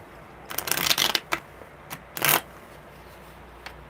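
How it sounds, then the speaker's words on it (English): Tarot cards are shuffled in several quick riffling bursts, crisp and close, with short pauses between them and no voices. "one more good shuffle"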